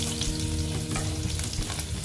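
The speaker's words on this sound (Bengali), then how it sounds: "এগুলোকে আমি আগে সুন্দর করে ভেজে নেব" Crushed garlic with dried red chillies frying in hot oil in a pan, a dense, continuous close sizzle with crackling spatter and occasional stirring scrapes, no voices.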